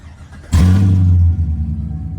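A Camaro SS engine with headers and no mufflers fires up with a sudden loud, raw roar, then settles into a rough, throaty idle, close by and unmuffled.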